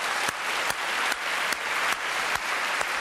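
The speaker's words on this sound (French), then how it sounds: "Applaudissements pour Jean Schultes, mesdames, messieurs." Studio audience applauding a pianist on a French television variety show, dense steady clapping with a few sharper accents, close and continuous throughout.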